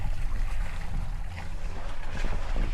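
Sailboat motoring under engine power, a steady low engine drone with wind buffeting the microphone and water rushing along the hull, continuous and close, no speech.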